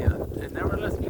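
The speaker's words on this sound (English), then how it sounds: "The wind always picks up. Out of nowhere." Gusty outdoor wind buffets the microphone with a steady low rumble while roller pigeons are being flown, with a faint muffled voice beneath it.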